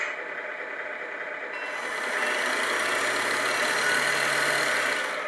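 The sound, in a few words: Tamiya RC truck sound unit engine starting and throttle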